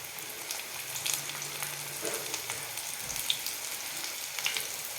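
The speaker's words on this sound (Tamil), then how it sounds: "காலிஃப்ளவர் நல்லா ஃப்ரை ஆகிட்டு இருக்கு இல்லையா" Cauliflower pieces frying in oil crackle and sizzle steadily up close, a dense bubbling hiss with scattered pops and no voices.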